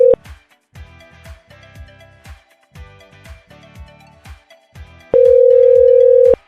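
A PC softphone rings for an incoming VoIP call placed from an Android phone on a VoIP server setup: a steady electronic tone opens and returns near the end, with rhythmic percussive ringtone beats and melodic notes repeating in between.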